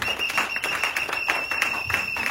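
A church congregation claps together during a Sunday worship service, with rhythmic applause and scattered taps running steadily throughout. A sustained high tone and some voices sit underneath.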